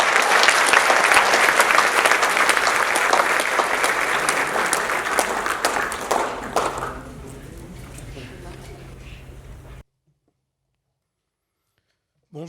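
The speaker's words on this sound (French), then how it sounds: "avec vos applaudissements les plus chaleureux" Audience at a conference on Malagasy language and identity applauds warmly to welcome a speaker, dense clapping that thins out and fades before silence.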